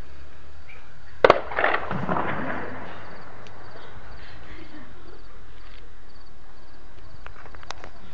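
Anti-aircraft and heavy weapons fire over a town in Daraa: a single sharp distant blast echoes and fades, followed by a quiet night filled with chirping crickets.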